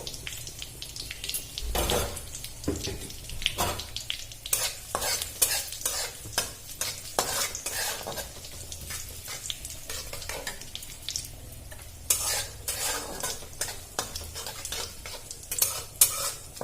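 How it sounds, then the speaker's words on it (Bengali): Dry red chillies, bay leaves and whole cumin stir-fried in a pan, with a steady sizzle under repeated scraping and clinking of a spatula against the metal, close and fairly loud throughout. "শুকনো লঙ্কা তেজপাতা দিয়ে দিলাম আর দিয়ে দিলাম গোটা জিরে। এটা ভালো করে নাড়াচাড়া করে ভেজে নেব।"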